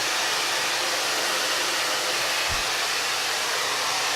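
A handheld hair dryer blows hot air steadily and loudly on hair, a continuous broadband whoosh from start to finish with a brief low thump partway through.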